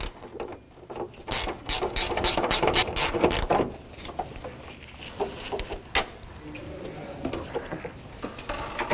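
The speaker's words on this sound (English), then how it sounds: "10 millimeter wrench or socket." A 10 mm socket wrench ratchets in quick bursts of clicking while removing the fan shroud on a Jeep Cherokee, loud and close, with short pauses between runs of clicks.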